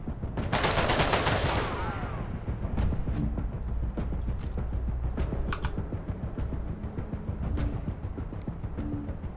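Gunfire from the Corruption 2029 video game, with a loud opening burst followed by dense, sustained crackling shots and combat noise over about nine seconds. Nobody speaks.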